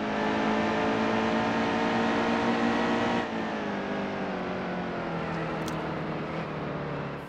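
NASCAR truck engine in NASCAR Heat 2 at New Hampshire, a loud sustained high rev that dips sharply midway as the throttle is eased, then holds at a lower steady drone.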